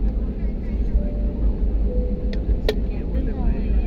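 Airplane cabin during takeoff from Chennai: a loud, steady low engine roar and rumble fills the cabin, with a few faint clicks and rattles on top.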